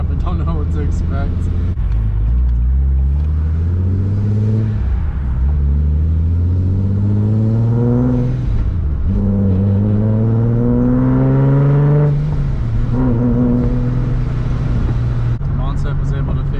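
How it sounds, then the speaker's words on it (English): A boosted Nissan 370Z on a dyno, its engine revving repeatedly in long climbing pulls that drop back and rise again, loud and close throughout, with no talk over it. "the car was running really well in the dyno"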